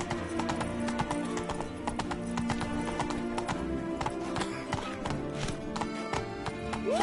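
Hooves clop in a fast, continuous galloping rhythm as the horse Roach runs in The Witcher 3 video game, with a neigh heard over steady game ambience.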